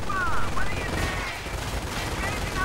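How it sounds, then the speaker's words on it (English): Heavy machine guns firing in a Company of Heroes World War II battle, a steady rattle of automatic bursts under a busy mix of combat noise, with whistling shells passing overhead. "Heavy machine guns advancing up here."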